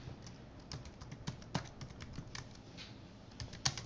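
Fast, irregular key clicks on a computer keyboard while text is typed into a text editor, close and fairly quiet, with a few louder keystrokes standing out.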